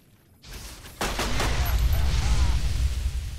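Pistol gunfire in a modded Fallout New Vegas game, a sharp report near the one-second mark followed by a loud, sustained rumble of combat noise and bursts that carry through to the end.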